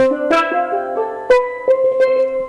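Ringing steel pan notes struck one after another in a short melodic line, bright and metallic with each tone sustaining, close and clear.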